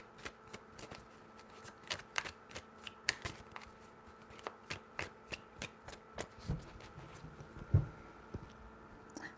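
Tarot cards being shuffled, a quick run of soft riffling flutters repeating at a steady, close pace, with one sharper thump near the end, under faint background hum.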